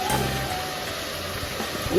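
Garlic and red chili chutney tempering for pav bhaji sizzles briefly and softly in hot oil, with a light clink of a utensil near the end.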